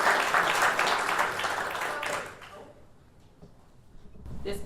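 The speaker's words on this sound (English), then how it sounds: "Massive round of applause, first of all, please, for Toby Wassell." Audience applause after a talk at a fitness industry conference, a burst of dense clapping that fades out over a couple of seconds, followed by quiet room noise and light handling sounds.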